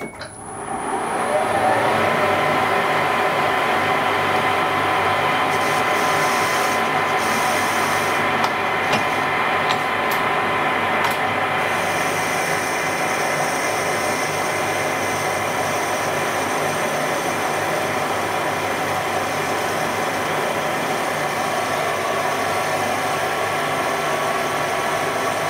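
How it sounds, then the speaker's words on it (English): A Warco GH1440 lathe driven by a variable frequency drive cuts a piece of metal, giving a steady, fairly loud mechanical hum with a faint scraping tool-on-metal texture that holds for the whole stretch. "So we'll just put a bit of metal in. Let's see if it cuts."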